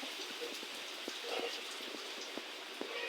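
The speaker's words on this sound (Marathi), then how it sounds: "आज तर पाऊस पण झालेला आहे मस्त" Heavy rain falls on a farm with maize crops in the evening, a continuous soft hiss broken by frequent close drips and splats, with no one speaking.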